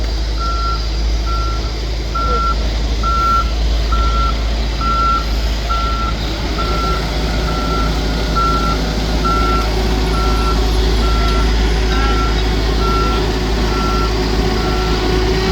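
A truck's reversing alarm beeps steadily in an even rhythm as it backs up to a paver to unload new asphalt during street repaving, with a low engine rumble throughout.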